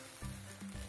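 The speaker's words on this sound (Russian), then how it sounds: "Первая готова, трещит, шипит, как пахнет, даже немножко убежала." Homemade snack frying in a pan of hot oil, a soft steady sizzle with faint crackles throughout the brief moment, quiet and close, with no talk over it.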